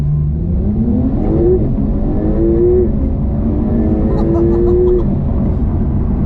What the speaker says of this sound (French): Un moteur turbo qui prend 7000 tours